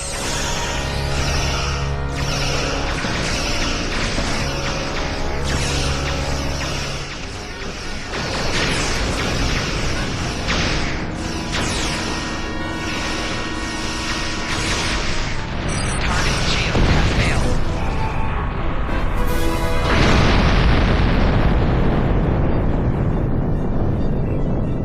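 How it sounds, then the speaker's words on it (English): A starship's lance weapon firing, with explosions, in a Star Trek video game: dense mechanical whirring and charging tones with booming blasts, a loud burst near the end, and continuous busy layers throughout. "Fire the lance weapon."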